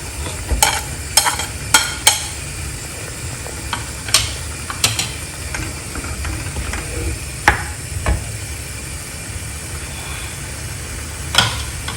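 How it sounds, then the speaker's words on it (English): Potatoes are stirred into a boiling tomato and pea curry in a pot: a bubbling simmer runs throughout, with sharp spoon scrapes and clinks against the pan at irregular intervals and no one speaking. "I'm going to add the potatoes now here."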